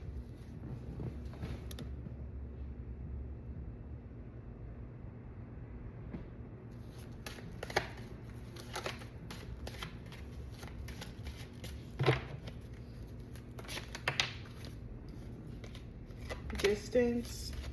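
Tarot cards shuffled and drawn during a reading, soft papery riffles and slaps coming in short bursts with a few sharper flicks near the end, close and fairly quiet over a low steady background hum.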